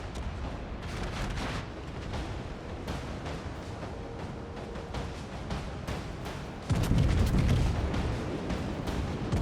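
Naval ship guns firing in a World of Warships battle, heavy booming blasts and rumbling detonations layered over a dense, continuous din of combat, swelling into a louder low roar near the end.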